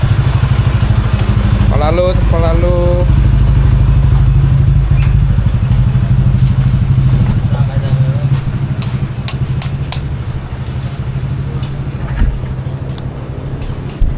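Honda Dash V2 motorcycle engine idling loudly and steadily up close, easing slightly toward the end with a thump, while people talk nearby.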